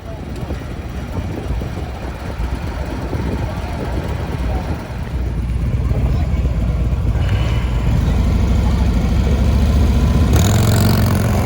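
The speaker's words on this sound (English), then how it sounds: "Race 1 is off, and the Harley tattoos the Indian on the starting line." A Harley Road Glide and an Indian Challenger launch side by side in a drag race; loud motorcycle engines idle, then rev and roar steadily louder, close by, with a voice talking over them.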